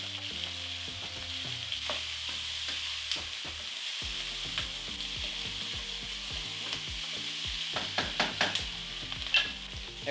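Pork and onions seasoned with soy sauce, salt and black pepper sizzle steadily in an oily pan, with a continuous frying hiss and intermittent scraping clatter of stirring, loudest near the end.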